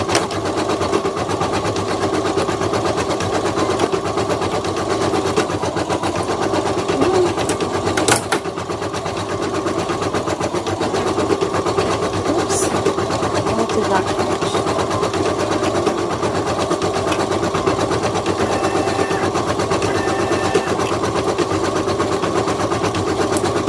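A sewing machine embroidering black thread stripes onto white felt, a loud, steady, rapid mechanical stitching hum running without pause, close by, with a couple of brief clicks and no talk.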